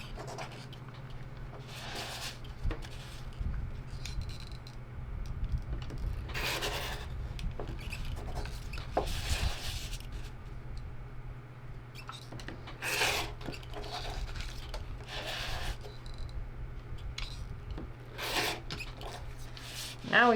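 Quilt fabric being trimmed along a ruler, heard as a series of short, soft rasping cutting strokes spread irregularly through the stretch, close by and fairly quiet over a low steady hum, with no talking.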